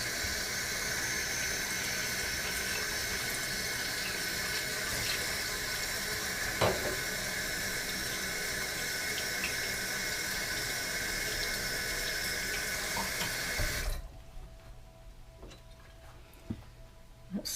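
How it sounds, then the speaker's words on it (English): A steady broadband rush of tap water runs over a jar lid being rinsed, loud and continuous with a brief knock midway, then cuts off abruptly, leaving near silence and a few faint clicks. "So I'm going to rinse that off."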